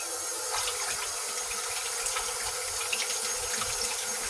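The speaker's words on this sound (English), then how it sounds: "wash this lemon." A lemon is rinsed under a steadily running kitchen tap, with water splashing continuously and evenly at close range and no talk.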